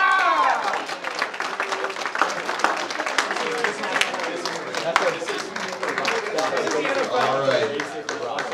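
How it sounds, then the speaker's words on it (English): Crowd at a hockey team's Christmas party gives a round of applause, steady clapping mixed with cheering and chatter, voices talking over it throughout. "Alright, round of applause"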